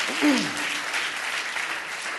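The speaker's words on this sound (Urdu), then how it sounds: "آئیے چرچ تالیاں بجا کر انہیں ویلکم کرتے ہیں" A church congregation applauds to welcome a visiting family during a Sunday service, a steady wash of clapping that holds at an even level throughout, with a brief voice rising near the start.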